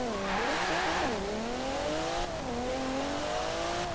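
A 1992 Alfa Romeo 155 Q4 with all-wheel drive races in Forza Horizon 4. Its engine whines and revs up through gear changes, loud and close, with a steady rising drone and no talking.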